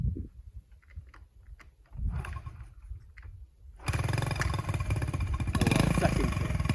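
A 1980 Honda CT70 mini trail motorcycle is kick-started: a few quiet scuffs and kick strokes come first, then the small engine fires and runs on loudly and steadily to the end, with no talking.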